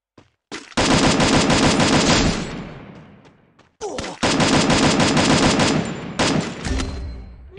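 Rapid gunfire in the Free Fire battle royale game: two long, loud sustained bursts of repeated shots, each lasting about two to three seconds, separated by a brief pause and ringing out with echoing tails.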